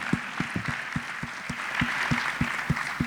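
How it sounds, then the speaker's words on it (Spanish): Sparse, distinct hand claps from a few people at a theatre talk, spaced irregularly over a quiet room tone. "recibimos nuevamente con un fuerte aplauso al profe Miguel Buzos, doctor Juego."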